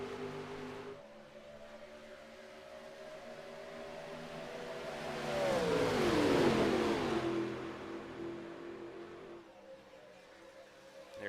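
Race car engines in the iRacing video game at Talladega during a NASCAR-style warm-up session: a low engine drone swells as a car passes close by with a rising then falling pitch, then fades back to a steady hum.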